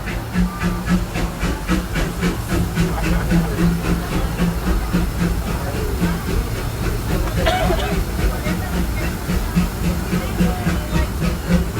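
The EP Ripley steam locomotive chuffing around the Disneyland railroad, rhythmic steam exhaust beats and hiss with wheel clatter, close and loud, with a narrator talking over it.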